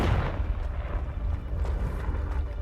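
The Confringo fire-blast spell in Hogwarts Legacy, a loud, continuous rumbling burst of fiery explosive noise with heavy low booms and crackling, dense from start to end.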